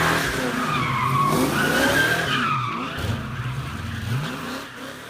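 A car's tires squeal and skid in long sliding whines while the engine roars, loud and close, then easing into a lower rumble.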